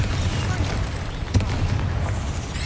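In the Hogwarts Legacy video game, a Confringo spell lands as a sharp blast and short boom partway through, set against a steady low rumble of game background noise.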